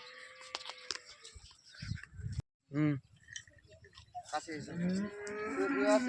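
Cattle being loaded onto a truck bound for Dhaka and Narayanganj, with one cow giving a loud, close moo among shuffling and handling noises while people talk nearby.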